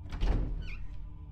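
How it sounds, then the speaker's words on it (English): A door opens in the Resident Evil HD Remake video game, a heavy low thunk followed by a brief creaking squeak and a fading rumble, close and dramatic, alone without talk. "I like the door animation, it's creepy."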